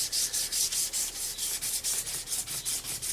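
Sandpaper is worked back and forth over a fillet knife handle in a fast, even series of close, dry rubbing strokes, about five per second, with no talking.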